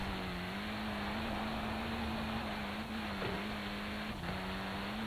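A car engine holds at full throttle in Forza Horizon 4, a steady, droning note that runs without a break through the whole stretch, with faint shifts in pitch.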